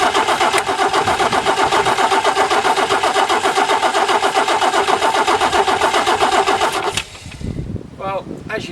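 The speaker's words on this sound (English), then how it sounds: "it's cranking over pretty well" A Nuffield tractor engine turns over on a converted Ford starter motor, cranking loud and steady with a fast rhythmic churn for about seven seconds before cutting out, followed by quieter clatter and a voice.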